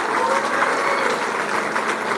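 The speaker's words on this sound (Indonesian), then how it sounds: "Tepuk tangan lagi dong adik-adik." Young students at an Islamic boarding school gathering break into sustained, dense applause, a steady roar of many hands clapping close by with no pauses.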